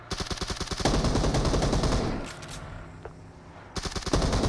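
PUBG Mobile gunfire with bursts of rapid automatic shots, a pause filled by a softer rumble, then more loud close firing resumes near the end.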